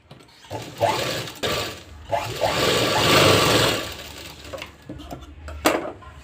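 An electric sewing machine stitches a boat neck blouse, its needle whirring in short bursts and one longer steady run with pauses between, up close and without speech.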